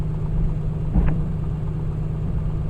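The engine of a Piper Comanche 250 in Microsoft Flight Simulator runs at a steady low rumble throughout, loud and unbroken, with a brief louder bump near the middle.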